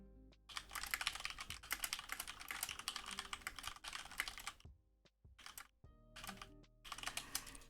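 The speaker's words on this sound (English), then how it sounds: "Is the clacking on my keyboard too loud?" Rapid clacking keystrokes on a computer keyboard, close and crisp, in bursts with short pauses between.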